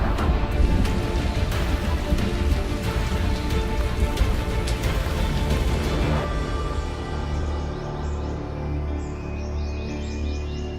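Torrential monsoon rain pours down in Indonesia, a dense, steady roar of heavy drops on surfaces that continues throughout, with faint bird chirps appearing in the background later on.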